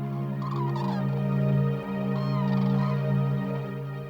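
European cranes at a migration stopover at Gallocanta give loud, continuous bugling calls with rising and falling harmonic tones, close and clear, with no talk.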